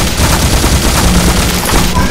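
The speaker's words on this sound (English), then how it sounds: "Oh, I've angered the turret." A turret in the video game E.Y.E. Divine Cybermancy fires continuously, making a loud, dense, unbroken rattle of rapid shots, with a voice heard faintly underneath.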